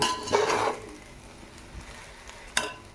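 A spoon stirs salted coriander rice in a pan: a scraping, rustling swish near the start, then quieter shuffling and a sharp metal clink toward the end, close and alone.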